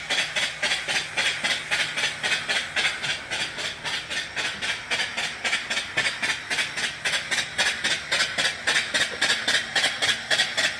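An antique reproduction vertical steam engine runs steadily, giving a fast, even chuff of hissing exhaust beats that repeat throughout, close and fairly loud with no talking.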